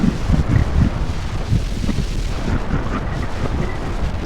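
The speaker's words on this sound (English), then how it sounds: "Wind on this side road is pretty good." Wind buffets the microphone of a rider on a scooter along a side road, a loud, continuous low rumble that blows steadily throughout, with no voice.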